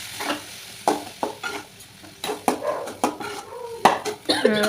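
Steamed pearl millet vermicelli is stirred with tomato in a pan, giving irregular scraping and clacking strokes over a light sizzle, close by and moderately quiet.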